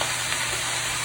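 A large batch of onions sizzles in a pan as they begin caramelizing, a dense continuous hiss close by and loud throughout a brief moment without speech.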